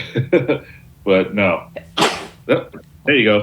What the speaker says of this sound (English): It feels good when you sneeze because I know that feeling.